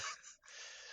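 A voice imitating panting: two quick, hoarse breathy huffs separated by a brief catch, close and faint, with no other sound around them.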